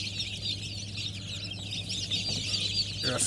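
A dense chorus of many small native chicken chicks cheeping continuously, close and busy, over a low steady hum.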